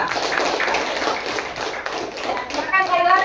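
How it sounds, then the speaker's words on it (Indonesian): Schoolchildren in a classroom clap for a presenting group, a busy patter of light claps and taps with young voices chattering underneath, ending with a brief spoken word. "berikan tepuk tangan untuk kelompok 2."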